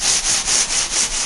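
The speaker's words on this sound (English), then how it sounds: "you just have to hit it lightly with a sanding sponge" Light, even strokes of a sanding sponge over dried drywall compound on a patched hole in a wall, a steady back-and-forth rasp repeating about five times in quick rhythm, close and alone.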